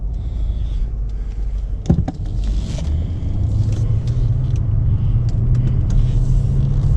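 A 2012 BMW 750Li M-Sport with 97K miles drives along, a steady low engine and road rumble heard from inside the cabin, with a brief knock early on and no talking.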